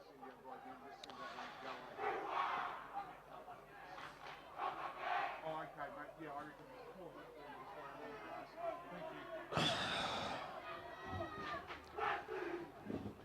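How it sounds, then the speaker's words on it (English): A rugby crowd at a Wesley match chants 'Wesley' around a conversion kick, a distant rhythmic chant rising under a commentator's voice, with a louder crowd swell near the end. "So we can hear the Wesley chant going on in backplay time."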